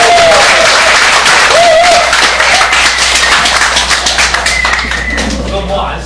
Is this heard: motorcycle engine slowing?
no